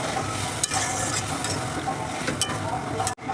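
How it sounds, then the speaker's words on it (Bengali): Hot water goes into a pan of egg curry with potatoes, giving steady close sizzling mixed with stirring scrapes before an abrupt brief break near the end. "এখন আমি এর মধ্যে জল দিয়ে দেবো এই যে গরম জল বেশি দেবো না অল্প করে দেবো"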